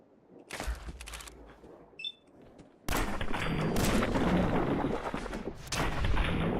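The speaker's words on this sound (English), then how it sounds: "glad I landed those shots" Gunfire in Fallout 4: a few sharp shots early on, then from about three seconds a loud, sustained burst of shooting and explosive booms that continues to the end, with no talk.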